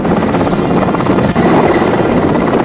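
A rescue helicopter over floodwater in New South Wales roars loud and close, its rotor chop pulsing steadily throughout with a heavy engine drone.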